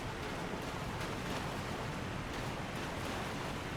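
River water flowing along the Siofra River bank in the video game Elden Ring, a steady broadband rush that holds at an even level with no breaks, with no talk over it.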